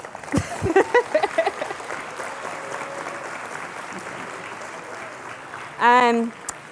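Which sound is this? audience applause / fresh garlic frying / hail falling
audience applause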